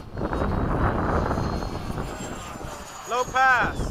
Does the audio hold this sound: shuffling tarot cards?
no